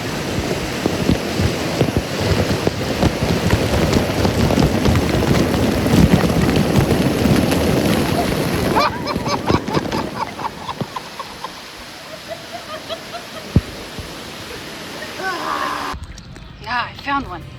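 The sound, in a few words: waterfall splashing on a water park lazy river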